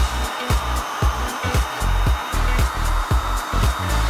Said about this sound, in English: We're going to shape it with an industrial hairdryer.